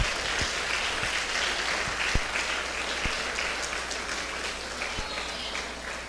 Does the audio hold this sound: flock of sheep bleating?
no